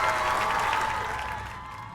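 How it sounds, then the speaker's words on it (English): A crowd gives a short, dense burst of applause for a jug band near Ruby Falls and Lookout Mountain, with loud, steady clapping that slowly fades over two seconds. "Give them a big round of applause."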